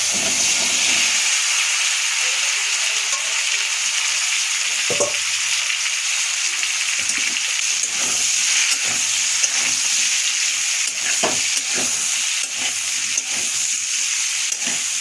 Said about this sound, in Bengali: এঁচোড়গুলো দিয়ে দিচ্ছি, ভেজে নিই।